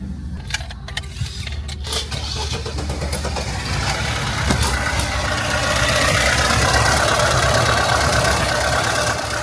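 A VAZ 2106 car with a vacuum air leak idles steadily and loudly up close, its engine drone rising slightly and staying rough, with jingling keys and clicks at the start.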